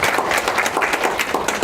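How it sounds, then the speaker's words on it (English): An audience at a morning presentation gives dense, steady applause welcoming the speakers, many hands clapping close together with no talk over it. "So please give them a round of applause and welcome them here."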